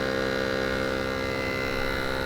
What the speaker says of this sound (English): Now it's vacuuming the air out,